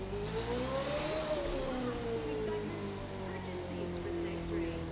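A Formula One race car in The Crew 2 racing game revs at a steady high pitch, with the engine note climbing and then easing downward under a wash of broadband noise.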